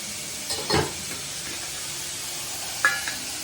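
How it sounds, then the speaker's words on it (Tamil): Onions sauté in a pan for bitter gourd curry with a soft, steady sizzle, broken by two brief scraping stirs near the start and end. "அதை நல்லா வதக்கணும் வெங்காயத்தை."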